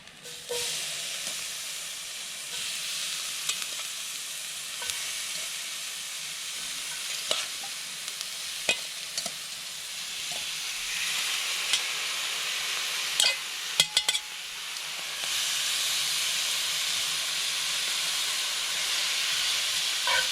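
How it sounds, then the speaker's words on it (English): Sliced peppers and onions sizzle in steak fat over a penny can stove, a continuous close hiss with occasional crackles and stirring clicks, growing louder toward the end; no voices. "And we'll get the vegetables in there and going. Peppers and onions."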